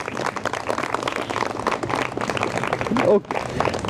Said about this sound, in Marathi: सेजल बर्गेसाठी एकदा जोरदार टाळ्या झाल्या पाहिजेत